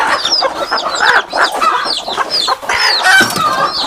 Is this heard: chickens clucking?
yes